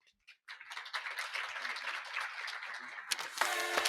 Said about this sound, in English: So let's applaud the video.